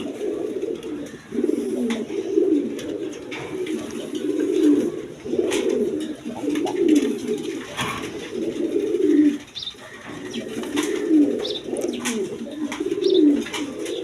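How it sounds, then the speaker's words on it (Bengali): Black lace pigeons coo in a pen, repeated low rolling coos in rhythmic bursts close by, with occasional light clicks and faint background noise. "ব্ল্যাক লেসগুলো এই দেখেন লেসগুলো মার্কিংগুলো"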